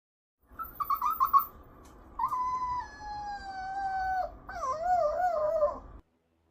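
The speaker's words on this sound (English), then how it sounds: "Bought a puppy recently. He's a miniature husky." A miniature husky puppy howls close by: a few short yips first, then long drawn-out wavering howls rising and falling in pitch, alone against a quiet room.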